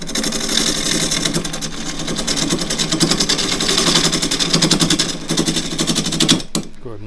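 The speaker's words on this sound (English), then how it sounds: "go to the grinder and sharpen the tool" A woodturning gouge being sharpened on a bench grinder, a steady, loud whirring grind with rapid rhythmic texture that runs continuously for several seconds, then cuts off abruptly near the end.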